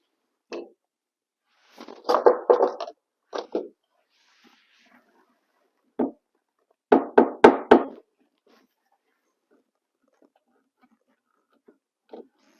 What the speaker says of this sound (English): knock the screw off the bit